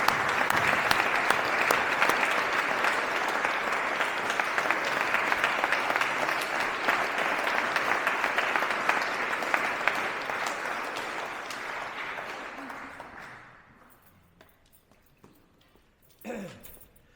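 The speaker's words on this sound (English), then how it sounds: "I'd like to end on a big round of applause for Neil." A room full of people gives a sustained round of applause for Neil, dense clapping that holds steady for about twelve seconds before tapering off, with a brief voice near the end.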